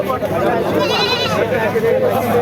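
A goat at a market lets out a wavering bleat in the middle of a busy, noisy scene, with crowd murmur close by.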